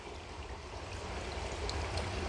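Water flows steadily through a large stone culvert pipe under an abandoned Erie Railroad line. It makes a soft, continuous trickling rush, faint and unbroken, with no voices.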